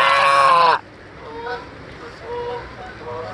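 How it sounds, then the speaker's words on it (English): Loud, dense honking from geese flying in low over a small stream, at close range for under a second, then abrupt quiet with a few fainter, distant honks and calls trailing off. "here comes some geese."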